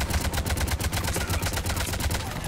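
Sustained automatic gunfire in Mass Effect 3: a steady, rapid stream of loud, evenly spaced shots with heavy low thumps, continuing unbroken for a couple of seconds.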